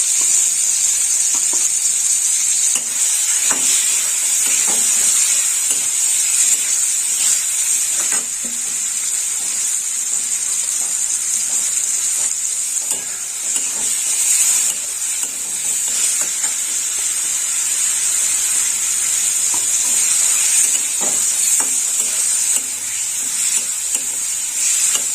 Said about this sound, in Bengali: আমগুলো ভেজে নেব